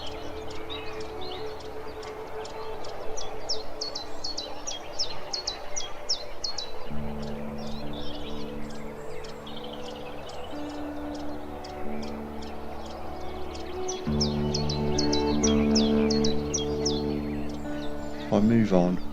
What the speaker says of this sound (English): the chiff-chaff calling in this tree seems to have a different variation of the normal song